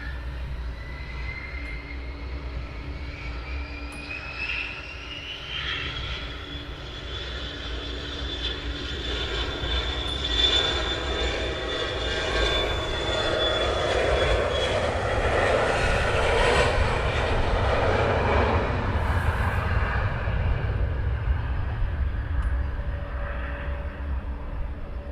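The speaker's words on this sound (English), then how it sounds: "So we have another Bizjet" Business jet at Luton Airport, a long roaring whine that builds from a distant approach to a loud, broad rush and then slowly fades as it moves away, heard alone without talk.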